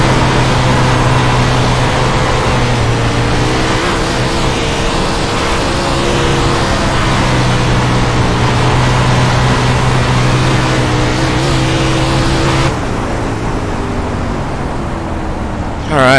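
A 410 winged sprint car races on the dirt track at Bristol Motor Speedway, its engine a loud, continuous close drone with shifting tonal harmonics, and a voice can be heard faintly under it.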